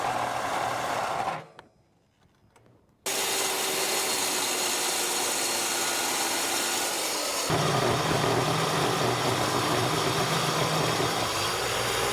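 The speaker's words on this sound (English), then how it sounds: "we got a pretty good ways through cutting with the Milwaukee circular saw" A Milwaukee circular saw grinds through 1 inch steel plate with a harsh, loud, continuous whine. It pauses briefly, then resumes, and the pitch shifts as the blade bogs in the cut.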